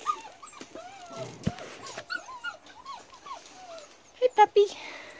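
Puppy whimpering and yipping in soft, rising high-pitched cries, with a few sharper yelps near the end, while a person talks gently over it.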